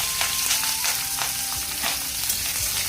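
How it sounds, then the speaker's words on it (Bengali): Black cumin, garlic and green chilli hit hot oil with a close, steady sizzle, bright crackling spits popping irregularly over a constant frying hiss. "ফোড়নের জন্য দিয়ে দেবো কালো জিরে, এই যে রসুন আর কাঁচা লঙ্কা কেটে রেখেছিলাম ওটা দিয়ে দিচ্ছি"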